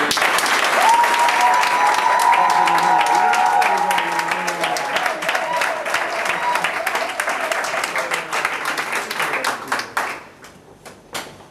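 Wedding guests applaud at a civil marriage ceremony, a dense, steady wash of clapping that carries on for about ten seconds before thinning out and fading, with some voices mixed into the crowd.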